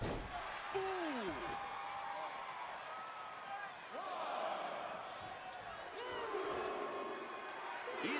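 Wrestling crowd at a Last Man Standing match between two wrestlers, a steady roar of cheering and shouting throughout, with whistles and rising yells drifting over it and a commentator's voice faintly underneath.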